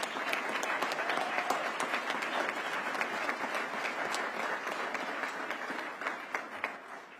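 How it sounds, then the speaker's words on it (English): An audience at a police community relations awards ceremony breaks into sustained applause, a thick wash of clapping that holds strong for several seconds before thinning slightly at the end. "Give Officer Amanda Huffman a round of applause."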